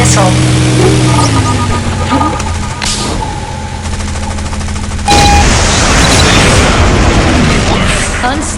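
A missile explosion rings out in the War Wings aerial combat game, a loud boom over constant engine drone and gunfire, with clanging impacts and a brief game voice nearby.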